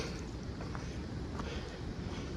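Wind gusts through hurricane-weakened trees on a forest trail, a steady low roaring rumble with a soft hiss above it, unbroken and close to the microphone.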